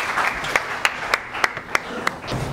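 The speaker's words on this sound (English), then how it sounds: "Round of applause like that," An audience applauds to welcome a speaker to the stage at a mental health event: a short burst of mixed clapping with a few sharp, distinct claps standing out, moderately loud, with no talking.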